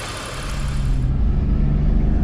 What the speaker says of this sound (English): take the car for a test drive and get the engine up to operating temperature